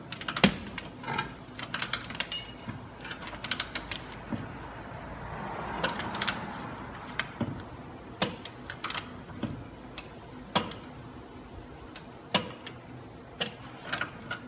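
A torque wrench set to 60 foot-pounds tightens nuts, giving scattered sharp ratcheting clicks and clacks up close at an irregular pace with quiet gaps in between.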